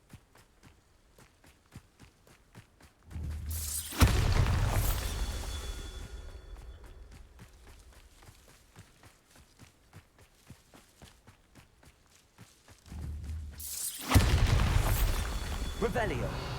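Two separate Bombarda blasting-spell explosions in Hogwarts Legacy, each a heavy boom that rumbles and decays over a few seconds, with soft footsteps ticking steadily between them and a voice speaking.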